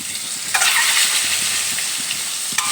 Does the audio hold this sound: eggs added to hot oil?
yes